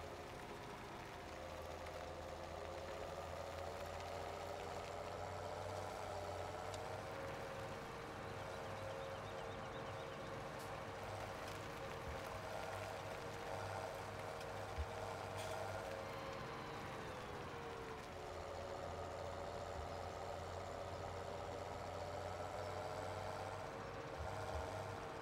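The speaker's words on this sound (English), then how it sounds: "Alright, I got a tractor. Now I got to drive up there." A tractor in a farming video game drives along with a low, steady engine drone, fairly faint and continuous for the whole stretch, with no speech.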